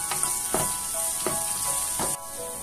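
Sliced onion and curry leaves sautéing in hot oil in a pan for brinjal masala, a bright steady sizzle broken by a few scraping stir strokes at regular intervals.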